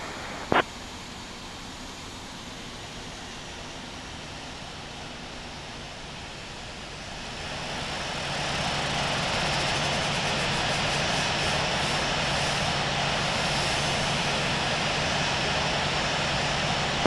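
A FedEx jet taxiing to runway 27 in a flight simulator gives a steady, droning engine roar that swells partway through and then holds at a louder, even level, with a brief click at the start.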